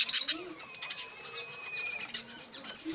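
Spangle budgie chicks and their mother stir inside a wooden breeding box, giving a short burst of high chirps and a brief flutter, then soft faint rustling and a thin peeping tone.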